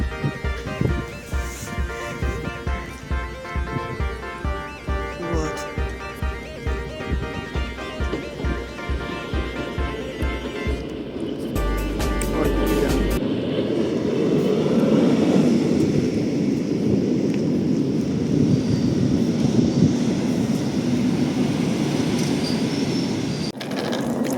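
Airplane taking off and climbing, a loud, steady roar that follows a rhythmic rattling clatter and swells into a broad, sustained rumble.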